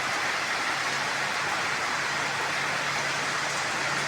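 Steady morning rain falls in a dense, even hiss, constant and fairly loud throughout with no voices.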